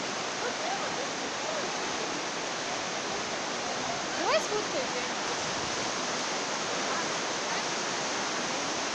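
Steady, loud broadband rush of the fast-flowing Mzymta river, heard from a suspension bridge near Sochi, with one brief creak and faint voices beneath the roar.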